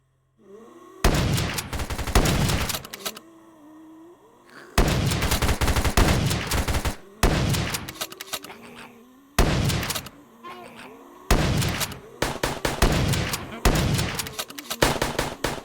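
Shotgun blasts in a VRChat zombies game, loud heavy booms repeated in bursts every second or two with short pauses between, close and dominant, with a voice speaking in the gaps.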